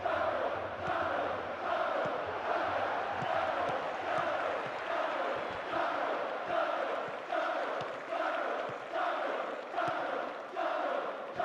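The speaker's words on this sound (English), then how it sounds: "Crowd just waiting for the half-time whistle." Stadium crowd noise from PES 10 football video game during a Champions League final, a continuous loud roar with rhythmic chanting swells pulsing about once a second.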